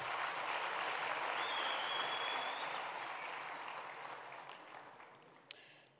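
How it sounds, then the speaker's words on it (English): Audience applause fills the room in a broad wash of clapping that stays strong, then gradually fades, with a sharp knock just before it dies away. "That deserves a round of applause."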